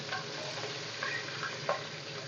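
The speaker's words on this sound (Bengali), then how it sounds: "মুড়ি ঘন্টর মাছের মাথাগুলো লাল লাল করে সুন্দর করে ভেজে নিতে হবে" Fish heads fry in hot oil for muri ghonto, giving a steady close sizzle with a few light crackles and no talking.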